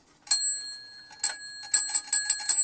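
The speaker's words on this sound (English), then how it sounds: "And obviously when you ring, it goes," A small brand-new bell in a case is rung several times, giving bright, clear ringing strikes with sustained tones, close and fairly loud, without talk.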